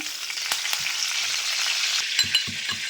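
Curry leaves hit hot oil and set off a loud, steady crackling sizzle, with a few soft knocks and stirring scrapes near the end. No one speaks.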